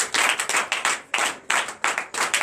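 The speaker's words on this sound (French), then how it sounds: "Donnez l'acclamation à Jésus." A church congregation claps in quick bursts with cheering applause during a Friday night deliverance and prophecy service, loud, dense and close, with short pauses between the rhythmic waves and no talking.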